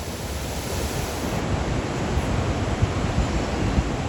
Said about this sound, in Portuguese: está a maior queda d'água, a Garganta do Diabo, que tem 80 metros de altura.